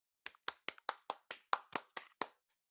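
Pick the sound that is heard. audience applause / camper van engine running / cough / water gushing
audience applause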